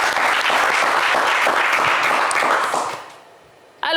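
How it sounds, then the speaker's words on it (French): Studio audience at a French television game show breaking into loud, dense applause that carries steadily for about three seconds, then fades out before a sudden new burst at the very end. "On vous applaudit."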